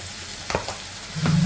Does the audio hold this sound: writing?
no